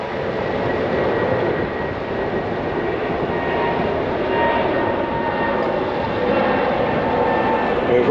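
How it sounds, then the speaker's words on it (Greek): A fixed-wing airplane passes over a residential area near Tahana golf club, its engine a steady broad roar that holds loud and unchanging throughout with no voices over it. "Δείτε και το αεροπλάνο τώρα εδώ."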